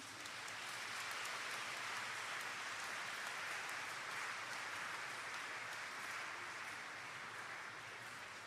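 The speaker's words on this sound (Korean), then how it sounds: "환영의 박수로 맞이해드리겠습니다" Welcoming applause as a bishop and auxiliary bishop enter a priestly ordination anniversary celebration, a soft, even wash of many hands clapping from a distance, sustained without a break.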